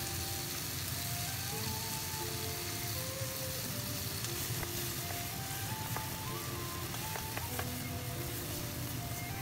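Steady sizzling of a wok stir-fry with tomatoes and soy sauce, a continuous dense crackle with faint clinks of a utensil, no talking.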